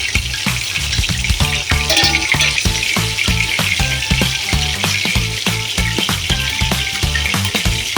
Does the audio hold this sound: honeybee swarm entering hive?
no